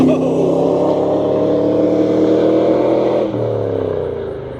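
A 1999 Pontiac Trans Am accelerating hard in second gear, a loud, close V8 roar rising in pitch, briefly dipping at a shift-like break before pulling on and fading slightly.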